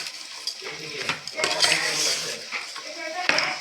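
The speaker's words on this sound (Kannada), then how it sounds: "ಚಲೋ ಗಟ್ಟಿಮುಟ್ಟು ಚಮಚ ತೊಗೊಂಡ್ರಿ, ಇದನ್ನು ಮ್ಯಾಲ ಕೆಳಗೆ ಮಾಡಿ" A sturdy spoon stirs and turns a pickle of salt, sour and chili, scraping and clinking against the container in short, uneven bursts close up, with a faint voice in the background.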